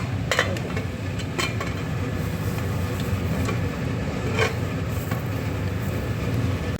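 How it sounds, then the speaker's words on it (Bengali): A pressure cooker lid is closed and locked over a pot of potato curry. A few sharp metallic clicks and clunks rise above a steady, fairly loud kitchen background noise. "এইবার প্রেশারে ঢাকনাটা দিয়ে এটা আটকে দিচ্ছি"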